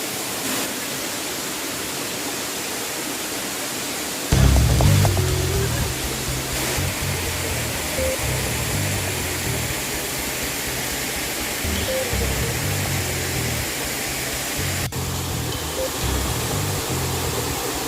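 Tier 7 of Erawan waterfall in Kanchanaburi, Thailand, a steady broad rush of falling water heard up close for the whole stretch. The roar swells slightly partway through and holds a constant hiss, with no voices.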